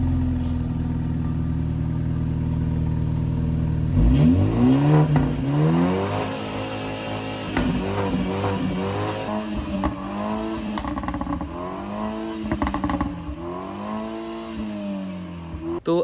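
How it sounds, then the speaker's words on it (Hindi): A BMW M Sport car idles with a low rumble through its original stock exhaust, then revs up repeatedly in rising and falling sweeps, loud and nearby. "तो अभी जो आपने सुना वो पुराना एग्जॉस्ट का था।"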